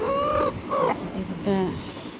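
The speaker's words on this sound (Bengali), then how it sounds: "এটা মুরগি না এটা মুরগ" A domestic deshi rooster gives a few short nearby clucking calls while a person talks over them.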